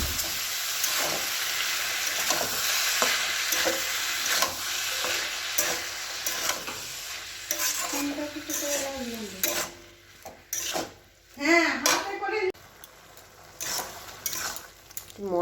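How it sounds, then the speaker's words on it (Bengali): Boiled banana flower sautéed in spice paste with sugar in a pan, rhythmic scraping stirs over a soft sizzle, close, with a few louder clattering scrapes and squeaks near the end, no voices. "মশলাটা দিয়ে এটা মোচাটা কষিয়ে নিয়েছি।"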